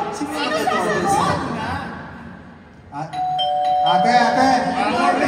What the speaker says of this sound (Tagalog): May doorbell. May nagdo-doorbell